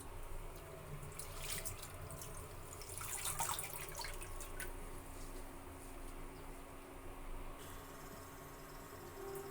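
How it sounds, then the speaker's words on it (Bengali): Leafy greens being washed in water at a home kitchen sink: faint trickling and gentle splashing with occasional drips and soft handling noises, quiet and steady throughout. "ধুয়ে নিই শাকগুলো।"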